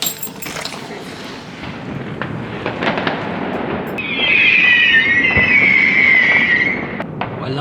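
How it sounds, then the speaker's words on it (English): Distant New Year's fireworks rumble and pop in a continuous outdoor wash, with a steady high whine rising partway through over the crackling background. "The fireworks over there."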